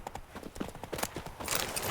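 Roach, a horse in The Witcher 3 video game, clip-clops along with a quick, steady rhythm of hoof beats on hard ground. The sound is moderately quiet and mixed with faint ambient game sound.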